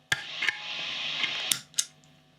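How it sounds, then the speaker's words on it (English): A DOD250 overdrive/preamp pedal being switched makes a few sharp clunky clicks, spaced irregularly over a steady hum of amp noise, close and fairly loud. "So it makes a bit of a clunky noise when you turn it off."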